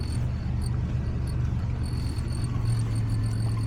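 Steady low road rumble and engine drone from a lowered Chevy car with its suspension stoppers removed, cruising smoothly at a constant level with no talk.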